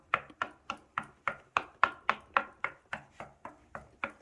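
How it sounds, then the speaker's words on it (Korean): A bathroom door threshold is knocked on to test its solidity, giving about fifteen quick, evenly paced solid taps, close and fairly quiet, with no talking. "지금 제가 여기 문지방 두들겨 볼게요"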